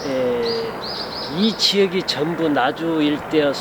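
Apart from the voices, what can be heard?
wild birds singing in a garden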